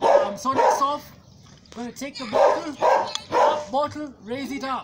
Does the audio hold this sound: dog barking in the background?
yes